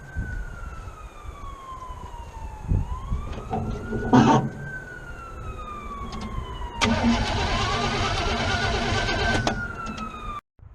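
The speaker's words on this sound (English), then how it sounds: "now that the fire truck's gone by making all that noise" A fire truck passes with its siren wailing in rising and falling sweeps and a brief air-horn blast, its engine roar building and swelling loud as it goes by, then cutting off abruptly near the end.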